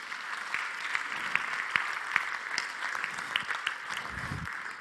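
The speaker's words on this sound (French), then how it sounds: "On l'applaudit bien fort" An audience applauds steadily for a man invited onto the stage at a live show, with dense clapping throughout and a few sharper individual claps standing out.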